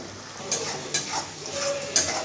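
Onion, ginger and ground spice pastes (coriander, cumin) sauté in a pan with cumin seed tempering for a fish curry, giving a steady sizzle broken by several sharp scraping stirs, close and alone.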